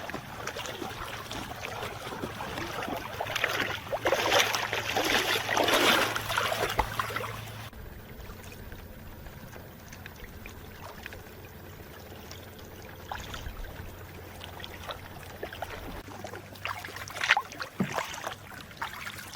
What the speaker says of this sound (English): paddle down this side of the island really fast